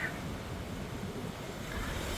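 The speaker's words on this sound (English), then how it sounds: "it's very windy" Steady low rumble of wind buffeting the microphone, a constant roar with no voices, filling the whole moment.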